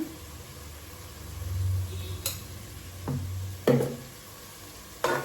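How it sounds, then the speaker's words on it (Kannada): A spoon stirs tomato sambar with sambar powder in a pan over low, steady simmering, with a few sharp clinks of metal against the pan spaced through it. "ಸ್ವಲ್ಪ ಕೈಯಾಡೋಣ ಇದನ್ನು."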